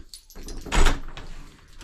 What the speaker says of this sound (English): Off we go, out the door.